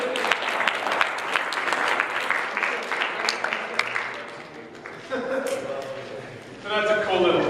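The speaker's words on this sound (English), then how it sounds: "Let's have a round of applause for our volunteers." An audience at a math lecture breaks into a round of applause for the volunteers, a dense burst of clapping that fades, then picks up again near the end with some voices mixed in.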